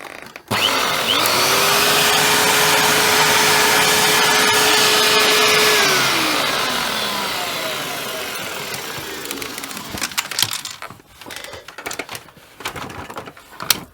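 A Hoover Turbopower 2 U2107 upright vacuum cleaner switches on with a loud motor whine and roar, then winds down, leaving irregular clattering and rattling knocks from something loose inside.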